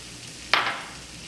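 Onions sizzle briefly in a pan, a sudden bright burst of frying hiss that fades quickly against a low kitchen background.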